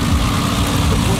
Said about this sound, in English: Sounds like a diesel from the front.